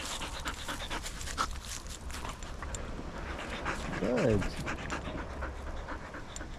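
A dog pants softly and steadily during an outdoor walk, with a brief whimper near the middle. A person speaks quietly to the dog over the rough background.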